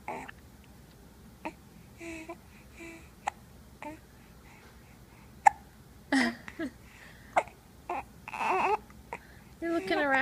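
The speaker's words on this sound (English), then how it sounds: "Now you got the hiccups." A baby hiccups repeatedly in sharp, isolated bursts with irregular pauses, close and fairly loud, alongside soft fussy vocal sounds and an adult talking quietly nearby.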